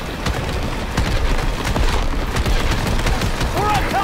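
An enemy vehicle fires on the player in a Call of Duty Modern Warfare chase, sending rapid bursts of gunfire that rattle steadily and loud through the scene, with clattering impacts and a few whistling tones near the end.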